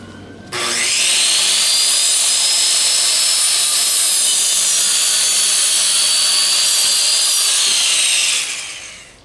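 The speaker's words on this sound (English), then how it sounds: "So now we're ready to cut our sleepers." Power tool cutting wooden sleepers for a model railroad bridge: a loud, steady high-pitched whine that starts abruptly, holds for about eight seconds and then winds down, heard close up with no talk.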